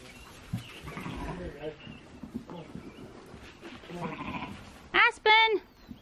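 People talk outdoors, then a sheep lets out two loud, close bleats near the end.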